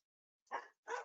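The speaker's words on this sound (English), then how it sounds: "Sorry about the over the loud dogs." Dogs bark twice in quick succession, two short rough barks heard faintly in the background of an indoor setting.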